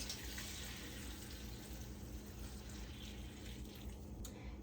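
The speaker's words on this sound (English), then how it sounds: "Next thing we're gonna do is add to our cabbage 1 quart of water." A quart of water pours steadily into a canning pot holding chopped cabbage, a continuous splashing rush that stays fairly even throughout.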